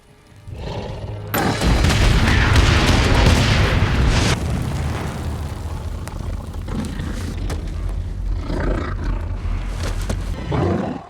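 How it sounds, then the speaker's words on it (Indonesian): A cluster of grenades going off at once in a movie set in a deadly forest: a sudden deep boom swells into a long, loud rumbling roar that slowly decays, with no talking. "tika targetnya mendekat dan menyentuh Edwin, itu mengaktifkan sekubalan granat yang meledak saat itu juga"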